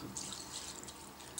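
Water runs from a kitchen tap into a bowl of rinsed rice in a steady, fairly close splashing stream for about a second and a half, with no talking over it.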